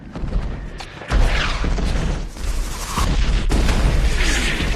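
Bombardment in a war film, deep booming explosions rolling in one after another with rumbling low thuds and crackling bursts, loud and dense throughout.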